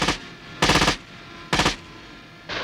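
A 7.62 mm machine gun mounted on a Nexter AMX 10 RCR armoured vehicle fires in short rapid bursts, four loud close volleys separated by brief pauses, with no talk.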